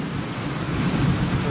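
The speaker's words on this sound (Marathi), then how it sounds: "जोरदार पाऊस आहे. वादळ वारा पाऊस सर्व काय चालू आहे इकडे." Heavy unseasonal rain lashes down at a petrol pump in Kasarde, Kankavli, Sindhudurg in the Konkan, a dense, close roar of rain with a low thundery rumble beneath it and no voices.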